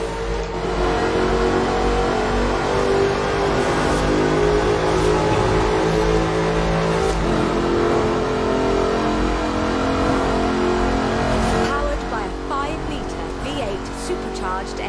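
A supercharged car with a fully aluminium body revs hard in Forza Horizon 4, its loud engine droning steadily and climbing throughout, with a voice talking over part of it.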